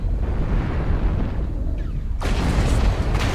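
An artillery strike lands in a video game as one loud, sudden explosion that bursts in partway through and rumbles on over steady background noise.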